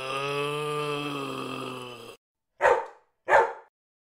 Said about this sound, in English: Wiener dog.